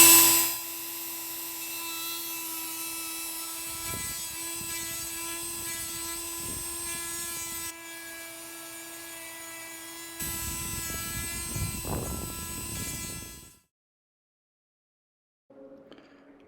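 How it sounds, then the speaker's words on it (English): A Dremel rotary tool runs steadily with a high whine while carving a freehand wood inlay, its pitch dipping slightly as the bit bites into the wood, then stopping abruptly near the end. "Starting the Dremel."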